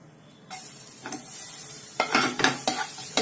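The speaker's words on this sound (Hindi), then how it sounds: "इनको कर लेंगे अच्छे से सॉटे" Garlic turning light golden brown and green chilies sauté in a pan: a near, loud sizzle bursts in after a brief quiet, then several scraping stirs punctuate the frying.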